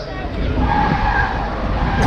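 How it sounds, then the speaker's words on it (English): A BMW spins donuts at a crowd-pleasing motor show, its tires screeching and skidding in a loud, sustained howl with engine roar underneath, very close and dominant. "additional entertainment laid on by the big spinning BMW out there"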